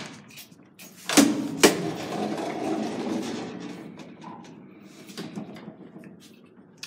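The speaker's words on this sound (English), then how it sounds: "It was the last ride on a 1949 Otis freight elevator." A 1949 Otis freight elevator riding down and stopping below floor level: a low mechanical rumble with two sharp clunks early on, a steady hum of travel, then fading motor noise and a final small knock.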